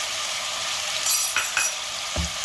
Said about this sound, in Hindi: इसे फुल फ्लेम पर इसी तरह से हमको भूनना है।